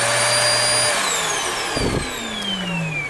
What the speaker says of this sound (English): you hook up your vacuum hose here and then turn this on.